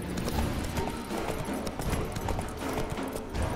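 Horse hooves clip-clop at a steady riding pace in The Witcher 3, a continuous close rhythm of hoofbeats with no speech.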